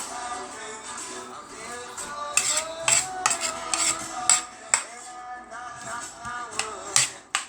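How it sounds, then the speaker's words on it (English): A tomato salad mixed in a kitchen bowl, then a spoon fetched: repeated close clinks, scrapes and taps of utensils against dishes in an irregular rhythm, with no talking. "Mix it up a little bit. Actually, I'm going to get a spoon for that."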